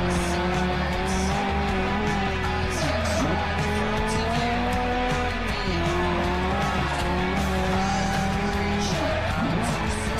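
Car accelerating in the video game Forza Horizon: a loud, steady engine drone with rising and falling pitch as gears shift, tires squealing now and then, continuous and up close.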